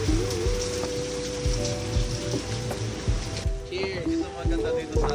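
Rain falling on an island, a steady dense patter on a surface, with people talking over it nearby.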